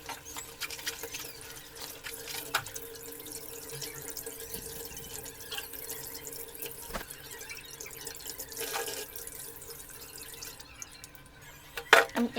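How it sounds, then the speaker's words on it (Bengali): Cut China puti fish are rinsed under running tap water, a soft continuous trickle with faint splashes and handling clatter, growing louder at the very end. "এবার আমি মাছগুলো পরিষ্কার করে ধুয়ে নেব।"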